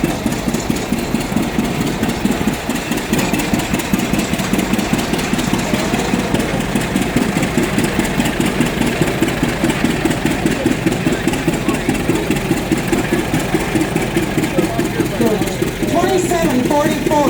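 A 1530 model tractor engine runs in a parade at a farm show in Wolford, North Dakota, its steady idling chug loud and constant throughout, with talk over it.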